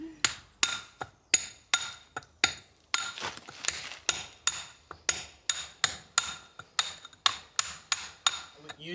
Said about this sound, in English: Apparently they use a rounded mallet like so